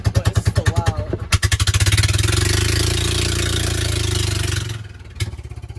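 A loud, straight-piped golf cart engine putters in rapid pulses, then revs hard into a sustained roar before dropping back to idle.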